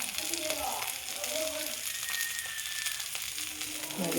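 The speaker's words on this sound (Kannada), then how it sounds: "ಅಕ್ಕ ಮೀನು ಫ್ರೈ ಮಾಡ್ತಾಯಿದ್ದಾಳೆ," Bangude (mackerel) fish pieces, coated in masala and rava, frying in a pan, a soft continuous sizzle heard close up with faint background sounds and no talk.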